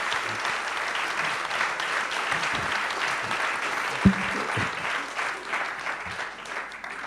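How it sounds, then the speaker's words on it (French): An audience at a training conference workshop applauds steadily, a sustained wash of many hands clapping at moderate distance with a faint murmur beneath, fading slightly toward the end. "Applaudissez l'effort"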